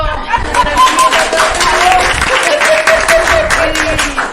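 Loud audience applause at a talk in a library, a dense, steady wash of clapping mixed with crowd murmur and overlapping voices, close and continuous.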